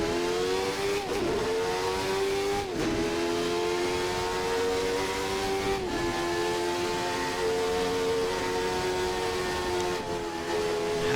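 A Jordan 191 Formula One race car engine in a racing video game screams at high revs, with tonal rises and brief dips at gear changes across a long flat-out run.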